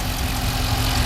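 A 2012 Dodge Charger SRT-8 idles with a loud, close, steady rumble, a deep and even throb that holds without change.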